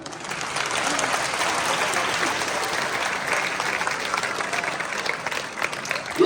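Students at an Islamic school quiz burst into steady, dense applause for a correct answer, the clapping sustained and fairly close before easing slightly at the end.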